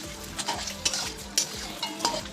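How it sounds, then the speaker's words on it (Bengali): Chopped onions fry in hot oil with a continuous sizzle, punctuated by several sharp scrapes and clinks of a utensil stirring in the pan. "তেলটা গরম হয়ে গেছে পেঁয়াজ কুচিগুলো দিয়ে দিলাম"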